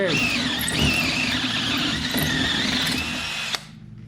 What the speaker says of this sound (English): The strain that you hear, I mean, it's not the drill struggling.